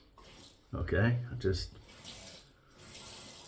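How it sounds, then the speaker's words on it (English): Tap water runs into a shaving lather bowl with a steady, soft hiss, briefly covered by a short spoken word and then continuing on its own. "We can add some more water."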